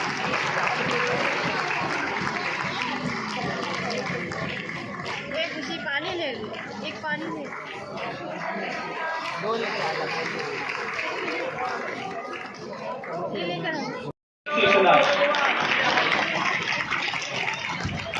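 Applause from a school annual day audience during an awards announcement, sustained clapping under chatter and children's voices, briefly cut off before resuming loudly.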